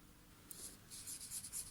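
Pencil or pen scribbling on paper during an intuitive drawing workshop, a faint, close scratching in a few quick strokes, alone without speech.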